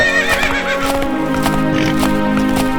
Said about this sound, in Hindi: तभी विक्रम सिंह अपने घोड़े पर सैनिकों के साथ वहां पर आया।